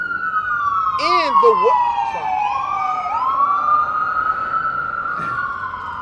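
An ambulance siren wails outside in Philadelphia, a loud rising and falling tone sweeping slowly across the whole stretch, with brief bursts of a voice talking and faint road noise underneath.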